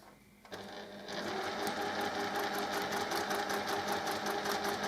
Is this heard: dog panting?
no